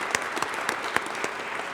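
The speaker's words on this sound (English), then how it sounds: "Could we have one more round of applause for all of our speakers this morning, please?" An audience claps for the morning's speakers at a development event, a brief burst of applause with individual claps distinct, moderately near.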